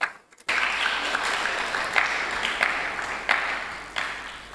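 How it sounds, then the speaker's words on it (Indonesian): Church congregation clapping in sustained, dense applause during a worship service, loud and steady after a brief quiet start, with a few sharper claps standing out. "Toh, tepuk tangannya ya untuk kemuliaan Tuhan."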